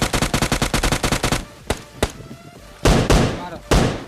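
Gunfire in a squad-match video game, opening with a fast, even burst of automatic shots, followed by a few single cracks and two heavier blasts, loud and close.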